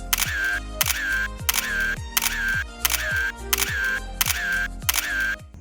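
A camera shutter fires again and again in a steady, fast rhythm, about nine clicks in quick succession, close and crisp, on the road from Pandu to Kamakhya Temple beside the Brahmaputra River.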